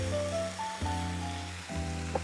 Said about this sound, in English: We're gonna take some ham, and we're just gonna heat it up and kind of brown it up a little bit here in the pan.